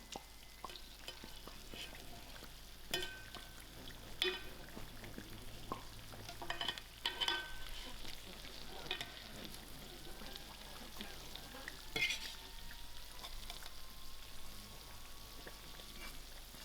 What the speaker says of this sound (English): Because my oil is shallow, I am going to keep taking up some hot oil and pouring it over